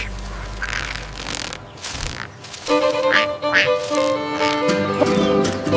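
A cartoon duck quacks over background music in an animated children's scene, the quacks fairly loud and close amid busy sound effects.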